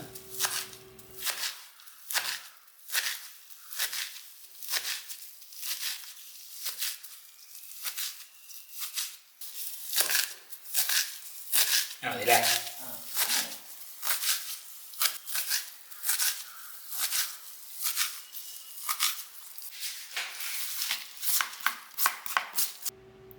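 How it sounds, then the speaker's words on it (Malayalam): A knife chops organic pumpkin leaves on a board in steady, rhythmic strokes, with crisp close-up taps repeating quickly through the whole stretch, one brief pause, and a faint rustle of leaves between cuts. "ഇനിയിപ്പോൾ ഇല അരിയാം അതായത് നുറുക്കാം"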